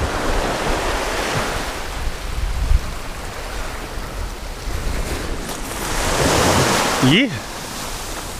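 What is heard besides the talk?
wind blowing at the seashore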